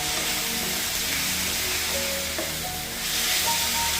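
About a cup of fenugreek leaves fries in a pan with a loud, continuous close sizzle and occasional stirring sounds, no one speaking.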